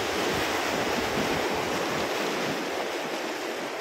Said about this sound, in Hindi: देख सकते हो पानी कितना जोर दे रहा है।